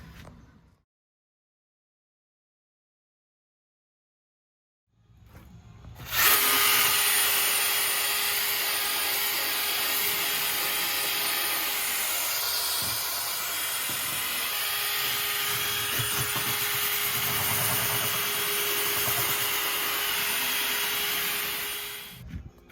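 A handheld drill with a wire brush scrubs the fenders of a Jeep Wrangler TJ, starting after a few seconds of near silence with a loud, continuous whirring grind that wavers slightly as the brush presses and moves, then cuts off at the end.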